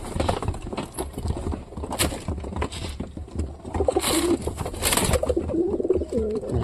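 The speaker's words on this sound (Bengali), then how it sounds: "সব কবুতর নামবে এখন ধীরে ধীরে" Several pigeons in a cage give repeated throaty coos, loud and close, mixed with wing flutters and soft shuffling throughout.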